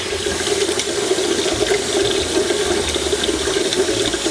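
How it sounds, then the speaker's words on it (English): Tap water runs steadily into a pasta pot on a kitchen stove, a loud, continuous rushing splash with no pauses, heard on its own without talk. "I'm gonna start filling my water from my pasta"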